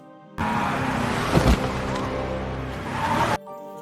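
A blue car with no licence plate strikes a town mayor outside a café in a film scene: a sudden burst of engine and road noise with a thump in the middle, then a brief roar before it cuts off.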